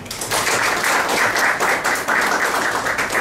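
A seated audience at a technical seminar on landslide monitoring gives a sustained round of applause to welcome the next presenter. The clapping is dense and steady, at an even loudness throughout, with no voices over it.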